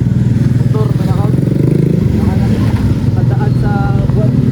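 A motorcycle passes close by near Laiya beach in San Juan, Batangas, its engine droning loud and steady throughout, with a rattling clatter and faint voices in the background.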